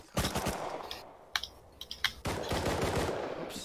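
Automatic gunfire in the survival video game Rust, loud rapid bursts of shots in two clusters separated by a few isolated single cracks, close and dominant.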